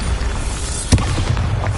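A Bombarda spell goes off in Hogwarts Legacy, one short, punchy boom bursting out of steady game ambience partway through, with a brief low rumble trailing after.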